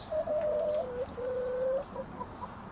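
Large Brahma hens give a drawn-out, wavering clucking call over a backyard coop's steady ambient hiss, moderately close.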